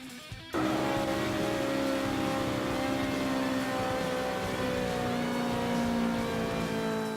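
Racing car engines in the Forza 5 online racing game, with a sudden onset into a steady, loud engine drone and a sustained, slowly shifting whine, heard without talk.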